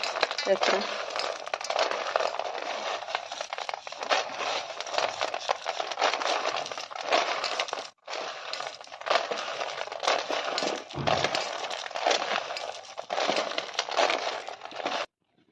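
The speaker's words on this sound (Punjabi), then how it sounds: "ਹੁਣ ਆਪਾਂ ਹੀ ਛਿਲਕੇ ਉਤਾਰ ਲੈਣੇ ਜੀ ਸਾਰੇ ਇਸ" Roasted peanuts being rubbed to loosen and shed their papery skins, a steady dry crackling and rustling that runs nearly nonstop with brief pauses, close and fairly loud, with no one speaking over it.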